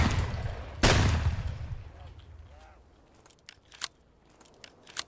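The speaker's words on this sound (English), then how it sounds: "Apparently, the gunfire's bringing all the scavs." A single loud, sharp gunshot in the video game Escape from Tarkov cracks out and then fades into a rumbling tail, followed by a few fainter clicks and distant pops.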